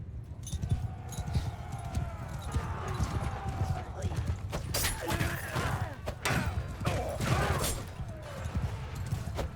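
Rapid hoofbeats of galloping horses in the video game Mount & Blade II: Bannerlord thunder under shouting voices and battle clatter as horse archers charge, with sharp cracks and impacts scattered throughout.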